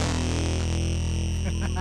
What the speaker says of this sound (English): even though it's a crazy fuzz crushed sounding thing that can even sound like this